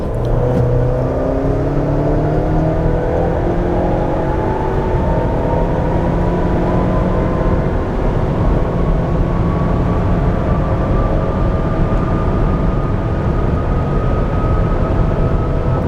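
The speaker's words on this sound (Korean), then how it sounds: "현재 세팅으로 가속 페달만 전개해서 가속 성능 테스트를 진행해 보도록 하겠습니다" A 2023 Ford Explorer 2.3 Limited SUV at full throttle, a loud, steady engine roar heard from inside the cabin, its pitch climbing gradually with several shift steps and constant road noise beneath.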